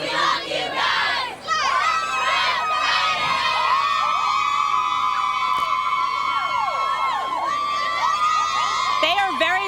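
High school cheerleaders at a West Mifflin football game shouting a loud, sustained chant together, shrill young voices overlapping with crowd noise, close and energetic throughout.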